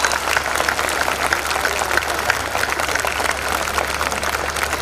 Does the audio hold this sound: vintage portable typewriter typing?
no